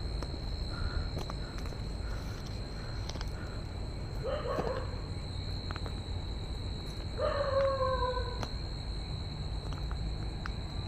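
A dog howls at night outdoors, giving two short, faint, wavering cries some distance away. A steady high insect drone runs underneath, along with scattered small clicks.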